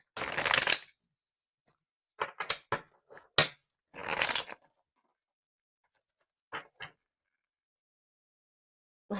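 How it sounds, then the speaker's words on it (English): Brief bursts of cards being riffled and shuffled, separated by quiet gaps, with small flicks and taps between the louder riffles. "I was shuffling this deck"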